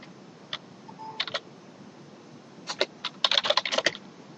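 Cisco router configuration commands are typed on a computer keyboard: scattered single key taps, then a quick close burst of clicking keystrokes near the end, over faint room hiss.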